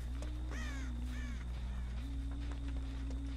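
Crows caw in the Dead by Daylight map Coldwind Farm, two distinct harsh caws close together over a steady humming drone.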